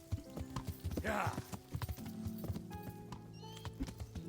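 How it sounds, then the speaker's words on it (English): A horse runs with quick, rhythmic hoofbeats in the medieval video game Kingdom Come: Deliverance, galloping at moderate loudness alongside a short snort and a soft game soundtrack. "the horse also starts running"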